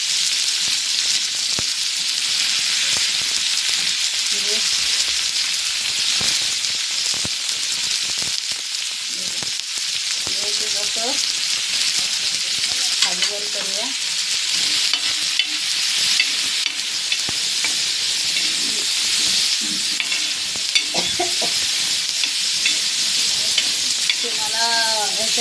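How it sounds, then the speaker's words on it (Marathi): Chopped onion and green chilli fry in a pan, making a loud continuous hiss that holds steady throughout, with repeated stirring scrapes and small crackles on top, up close. "कांदा टाकून घेते. गॅस बारीक करूया. कांदा मिरची टाकून घेते मी."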